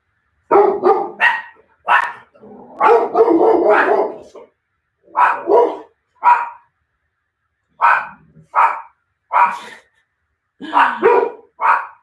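Several dogs bark in sharp, loud bursts close by, clustered yaps and woofs coming in irregular groups separated by short silences.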